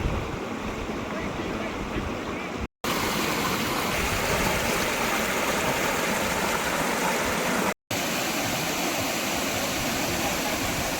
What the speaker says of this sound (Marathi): हा तो धबधबा आहे जो खाली जाऊन मोठा होतो